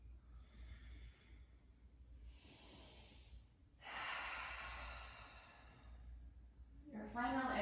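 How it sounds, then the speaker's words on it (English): Slow breathing during a sound bath: soft drawn-out inhales and exhales in gentle cycles, quiet and close, ending with a louder breath. "Last 5 cycles of breath."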